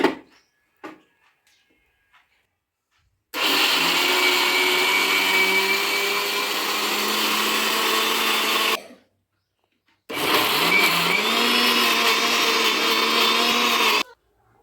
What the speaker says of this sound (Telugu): మా అబ్బాయి అయితే పడతాడంట మిక్సీ